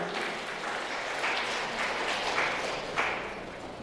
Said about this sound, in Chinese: 好，来拍手欢迎她来